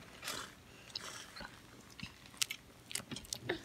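Crisp bites and crunches into Taco Bell nachos, a handful of sharp, close, irregular crunches with brief chewing in between, quiet and otherwise silent.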